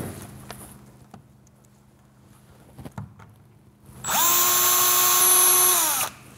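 A power drill bores pilot holes into a door. Quiet handling taps and knocks come first, then a loud, close motor whine that holds steady for about two seconds and winds down.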